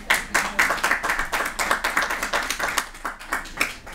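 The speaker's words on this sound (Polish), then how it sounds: "Również brawa." An audience at a local government event in Ostrołęka applauds steadily, many hands clapping in a dense, rhythmic patter at moderate distance, with no one talking.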